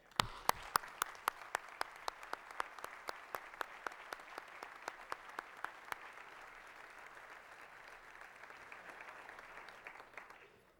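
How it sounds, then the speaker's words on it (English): Audience applause for the event co-chairs at a business man of the year dinner, with bursts of hand clapping that are crisp at first, then settle into a steady, moderately loud wash of many hands that fades toward the end. "If you could all just stand up so we can give you a round of applause for all your help."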